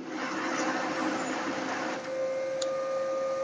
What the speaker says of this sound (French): elle fait le préchauffage, vous l'entendez.